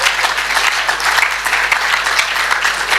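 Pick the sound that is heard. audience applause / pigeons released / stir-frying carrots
audience applause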